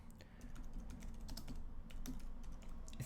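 Rapid keystrokes on a computer keyboard as a search for boiler repair is typed, a steady run of light, close clicks with no talking.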